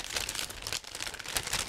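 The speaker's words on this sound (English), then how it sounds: "This is a resealable plastic bag, so it should be quite quick to open." A resealable plastic bag of parts for a 1/35 scale ICM AR-2 fire truck model kit is opened, giving soft, close crinkling and rustling for under two seconds.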